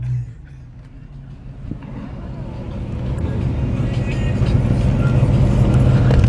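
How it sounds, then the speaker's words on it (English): Car engine said to sound like an Infiniti, not a V8, revving at a pop-up car meet in Central Florida, starting as a low idle and swelling into a louder, rising rumble, with people talking nearby. "rev it a little bit"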